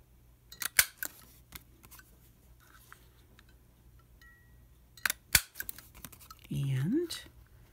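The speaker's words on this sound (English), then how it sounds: "take your punch and cut all 4 corners just like you did the last time" Several crisp snips of a corner punch cutting the corners of paper tickets, scattered clicks and crunches up close, with a brief rustle of paper afterward.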